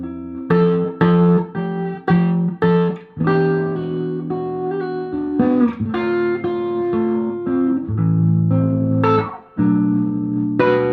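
Electric guitar played through a Magnatone Twilighter amp with the reverb switched off, a run of dry, clean plucked notes and short chords with clear gaps between them, close and alone.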